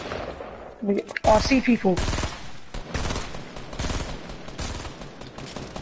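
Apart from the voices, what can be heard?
gunfire shooting down a vehicle in a video game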